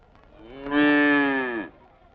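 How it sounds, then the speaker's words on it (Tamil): A cow lets out a single long, loud moo lasting about a second, rising and holding steady before it stops, heard up close with quiet surroundings before and after. "மாடு வேணா நல்லா தான் இருக்குது."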